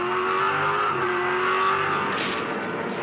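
Two V8 Supercars at the Oran Park 400 race, short shifting below their 7,500 rpm limit: a loud, steady engine drone with a slight pitch drop partway through, then a sharp rasping burst as a car passes close by.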